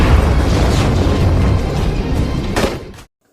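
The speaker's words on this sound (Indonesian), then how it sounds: "Malang ledakan tersebut justru membuat Connor semakin murka" A loud, deep explosion booms and rumbles steadily for about three seconds, then cuts off abruptly into silence.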